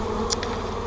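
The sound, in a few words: honey bees buzzing around a hive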